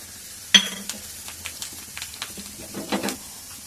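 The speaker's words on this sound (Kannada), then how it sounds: "ಒಗ್ಗರಣೆ ಹಾಕ್ತಾ ಇದ್ದೀನಿ ಈಗ ಸಾಸಿವೆ ಹಾಕಿದ್ದೀನಿ ಈಗ ಜೀರಿಗೆ ಹಾಕ್ತಾ ಇದ್ದೀನಿ" A tempering of mustard seeds, cumin, dried red chillies and curry leaves sizzling in oil in a home kitchen, a sharp initial crackle followed by scattered pops and soft spatters, fairly quiet and close, with no talk.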